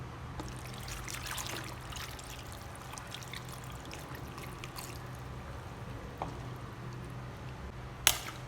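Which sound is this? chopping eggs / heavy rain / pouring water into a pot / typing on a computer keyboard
pouring water into a pot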